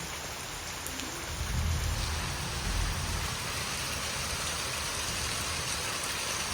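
Heavy monsoon downpour of the rainy season, a dense, steady roar of rain close by, with a deeper rumble swelling underneath midway before settling back into the even hiss.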